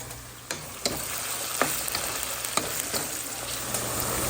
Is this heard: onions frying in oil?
yes